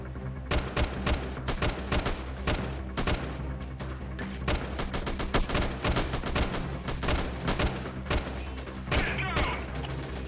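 Enemy freedom guards open fire in the video game Freeman Guerrilla Warfare: loud, repeated gunshots crack out in irregular volleys and bursts, some overlapping, with occasional heavier thuds, sustained across the whole stretch.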